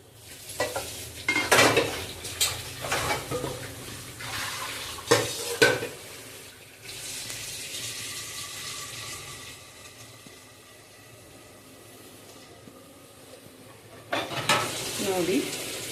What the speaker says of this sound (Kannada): ಈಗ ನಮಗೆ ಎಷ್ಟು ನೀರು ಬೇಕೋ ಅಷ್ಟು ಹಾಕುವ